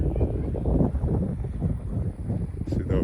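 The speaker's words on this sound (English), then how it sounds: "The wind is picking up a little bit more on this side." Wind gusts steadily across the microphone during a walk around lakes in Katy/Fulshear, Texas, making a close, rumbling low buffeting that swells and eases for the whole stretch.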